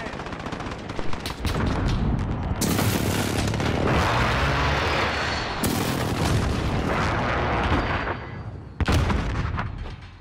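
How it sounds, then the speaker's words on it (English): Explosions from an enemy precision airstrike in Modern Warfare multiplayer come as loud, dense bursts of blasts and rattling gunfire, filling the clip continuously with a few sharp booming peaks. "Enemy precision airstrike"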